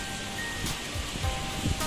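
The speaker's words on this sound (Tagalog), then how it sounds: "Ang lakas talaga ng hangin dito." A broad, steady rush of strong wind with gusty swells, loud and close, buffeting throughout.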